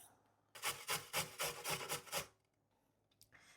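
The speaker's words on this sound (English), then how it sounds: "grate 1 carrot" A single carrot grated by hand over a bowl for gluten-free bread dough, heard up close as about seven quick, evenly paced rasping strokes followed by a few faint scrapes, with no talking.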